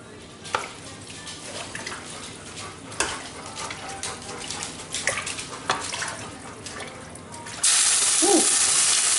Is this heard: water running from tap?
yes